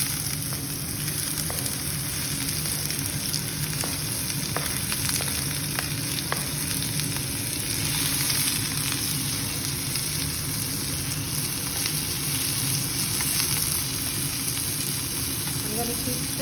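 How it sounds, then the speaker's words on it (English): Onions frying in olive oil in a frying pan for a South African bobotie, a steady close sizzle with occasional stirring clicks throughout. "I'm going to get my onions, and I'm going to pour them into the frying pan."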